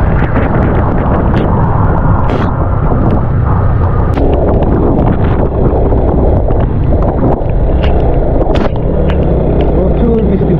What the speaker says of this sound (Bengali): প্রচুর বৃষ্টি পড়তেছে।